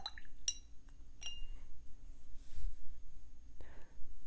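A watercolour brush tip tapped against a glass of water gives a few light, bright clinks near the start, followed by faint watery swishes in a quiet room.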